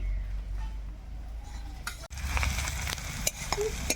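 Spices fry in a pan with a soft sizzle under repeated stirring scrapes and a few sharp clinks of a utensil against the pan, close by and fairly quiet.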